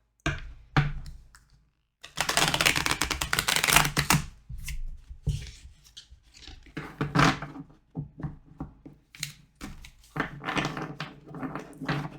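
Tarot cards being shuffled by hand during a card reading, a long dense riffling burst followed by intermittent softer shuffles and taps, close and fairly quiet with no talking.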